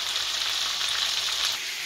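Chicken pieces sizzling steadily in a hot pan while being fried for butter chicken, a constant close hiss with no pauses.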